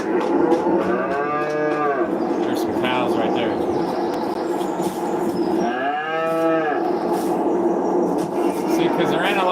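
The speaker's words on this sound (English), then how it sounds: "There's some cows right there." Cattle in the video game Farming Simulator 22 give two long, loud moos, one early and one midway, over a steady game background, with someone talking over them throughout.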